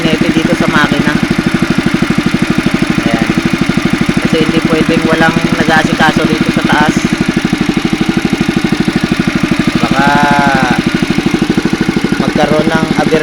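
Boat engine on a fishing boat on the river at San Rafael, Bulacan runs with a loud, steady, rapid chugging throb that never stops, while someone talks over it and birds chirp now and then.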